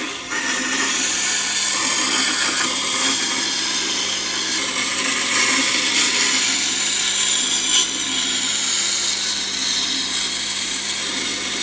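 A bench grinder sharpens a bowl gouge for woodturning, giving a steady, loud broadband grinding hiss and whine that runs without a break for the whole stretch. No voices are present.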